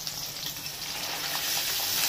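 Paneer cubes crackle and spit in hot oil in a pan, a steady dense sizzle that holds evenly throughout and builds slightly louder toward the end, with no voices.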